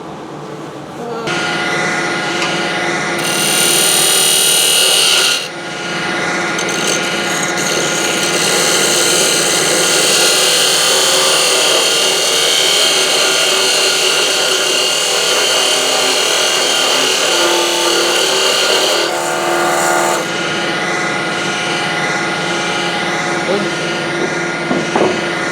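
Figured maple blank being turned into a dough roller on a wood lathe, a loud continuous whine and rush of the spinning stock with a shrill cutting burst near the start, running steadily throughout.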